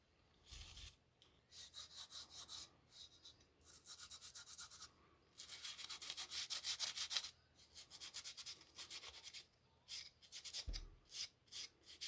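Rubbing and burnishing on the body surface of a Ford Falcon with a dry product, repeated rhythmic back-and-forth scrubbing strokes close by with short pauses between passes.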